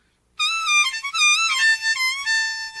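A harmonica in A plays in a blues style on the high keys: a bright, loud, close run of warbling, bending notes that starts after a brief silence and continues without pause.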